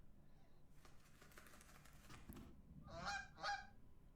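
Goose in the video game Backbone gives two quick nasal honks near the end, preceded by a rustling, clattering patter; fairly quiet and close.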